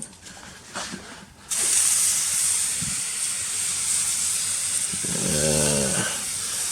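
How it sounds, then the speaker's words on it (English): A can of air filter oil sprays onto an air intake filter: after a brief pause a loud, steady, close hiss starts and runs continuously to the end, with a faint voice-like murmur near the end. "I got the can air filter oil, and you just go ahead and just hit it up."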